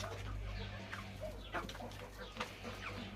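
Chickens clucking in a farmyard, with a few short calls from an old rooster rising over a low steady hum of background noise.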